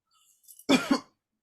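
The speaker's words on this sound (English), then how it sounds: "and I have a cough." A patient at a doctor's visit gives a single close cough, a short double burst after a soft intake of breath.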